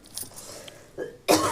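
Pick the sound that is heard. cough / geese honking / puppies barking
cough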